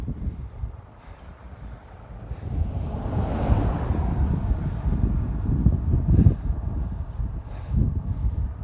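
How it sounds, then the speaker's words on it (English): Headwind blowing up a river valley against a cyclist riding across the USA, a low rushing wind buffeting the microphone that swells and eases gently without pause. "There is a little bit of a headwind coming up the valley"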